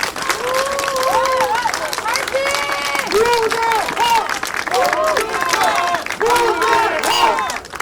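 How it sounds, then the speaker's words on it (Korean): A large crowd at a Daegu political rally applauds and cheers continuously, dense clapping mixed with shouts, loud and spread out, while an announcer speaks over it. "여러분 큰 박수 부탁드리겠습니다"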